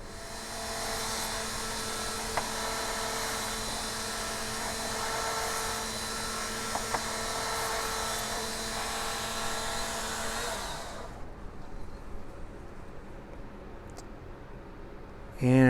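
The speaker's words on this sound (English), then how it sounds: "I like just doing like the little Dremel sanding drum, and I just start to shape this the way I like it" A Dremel sanding drum shapes a polymer guitar pick, a high, steady whining grind that holds for about ten seconds, then cuts off to quiet room noise.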